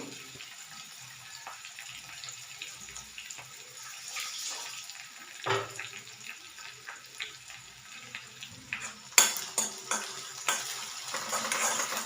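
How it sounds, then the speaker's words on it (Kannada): Food fries in a pan until lightly browned, a soft, steady sizzle with occasional stirring scrapes and clinks, fairly quiet, with a brief sharper clatter near the end and no talking. "ಸ್ವಲ್ಪ ಬ್ರೌನಿಷ್ ಆಗಿ ಹುರ್ಕೋಬೇಕು"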